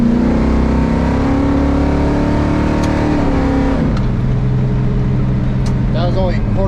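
A race car with a high-torque engine and 4.56 gears revs steadily at quarter throttle, a loud, continuous engine drone that shifts pitch partway through, with a voice talking over it.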